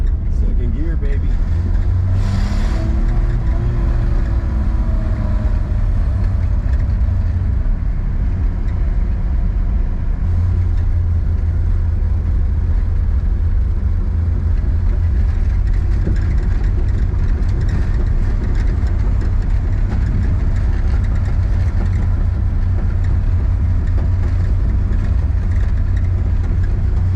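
A 1960 Chrysler Savoy's engine drones loud and low in second gear, a steady heavy rumble with road noise that holds throughout, a brief voice rising over it early on.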